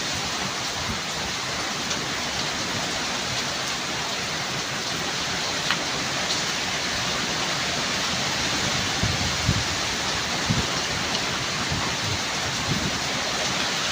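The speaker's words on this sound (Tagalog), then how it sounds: "Ayun o, napakahina lang na ulan, no?" Light rain falling while strong wind blows hard during a stormy typhoon day, a steady broadband wash of rain and gusts that stays loud and even throughout, with no talking.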